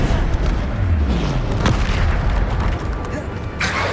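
A Bombarda spell explosion in Hogwarts Legacy, a deep low boom that rolls through a loud, busy combat mix while a voice speaks over it.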